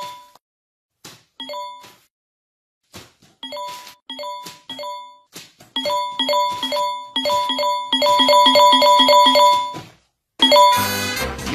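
A run of short chiming message notification tones from a phone, a few isolated pings at first, then coming faster and overlapping into a dense, insistent cluster of bright dings at the end.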